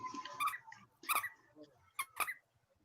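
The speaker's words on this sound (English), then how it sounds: "It's the dog, sorry." A dog whimpers and yips in short, high-pitched bursts heard in a home, faint and somewhat distorted, with brief pauses between cries.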